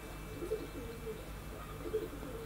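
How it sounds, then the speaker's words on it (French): Pigeons cooing softly in two short bursts, faint against a steady outdoor hum, with no voices. "Ah, maintenant on a les pigeons."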